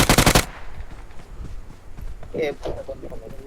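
Rapid burst of video game machine-gun fire opening loudly, then quieter scattered shots and game noise under talking players.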